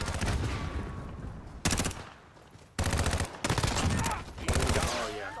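Call of Duty gunfight in a 2v2 match: bursts of automatic gunfire in several loud, separate volleys with brief gaps between them.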